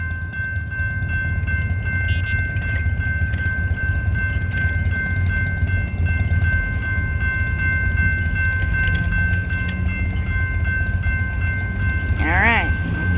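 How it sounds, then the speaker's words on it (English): A train rolls through a level crossing, a steady broad rumble of rail cars close by with a brief higher horn-like blast near the end. "Alright, here comes the train."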